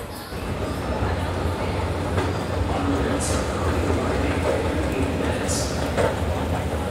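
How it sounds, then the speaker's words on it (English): Las Vegas Monorail train rumbling steadily at an elevated station, a continuous low mechanical drone with faint higher squeaks and clicks from the car running alongside the platform. "Here's a shot from the top of the station with the monorail."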